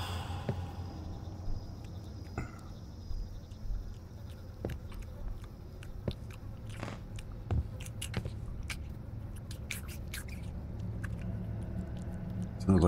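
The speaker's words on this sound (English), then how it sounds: "Like somebody's chewing, eating." Someone chews and eats inside a building in the indie horror game Summer of 58, giving soft, irregular wet clicks and crunches over a low ambient drone, with someone talking at times.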